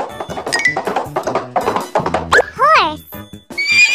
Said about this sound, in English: A horse makes a neigh sound.